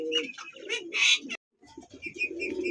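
Pakistani Danish pigeons calling close by, soft rolling coos mixed with brighter chirps, a brief gap of silence, then more cooing and twittering from the birds.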